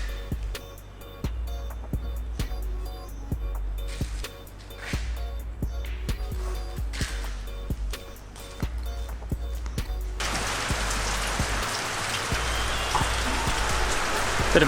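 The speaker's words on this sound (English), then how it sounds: "Bit of a rain delay again." Steady rain falling in Thailand while sailing, dense pattering drops with sharp individual drips at first, then swelling into a heavier, louder continuous downpour toward the end, no voices.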